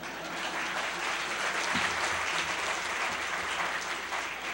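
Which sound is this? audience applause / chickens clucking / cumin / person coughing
audience applause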